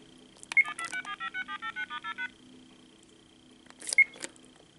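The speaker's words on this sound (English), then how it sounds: "And we're going to push redial on here." A vintage 1990 AT&T 5500 cordless telephone redials, starting with a click and then a quick run of about ten evenly spaced touch-tone beeps, followed by more handset clicks, close and clear.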